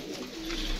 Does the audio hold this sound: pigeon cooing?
yes